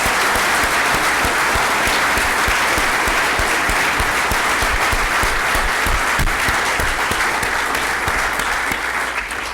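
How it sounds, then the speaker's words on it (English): Audience at a school athletics hall of honor induction ceremony giving a long, loud round of applause, dense sustained clapping from a large crowd that holds steady for the whole stretch. "I just wonder if we could please have a big round of applause for all those teachers who teach through their athletics"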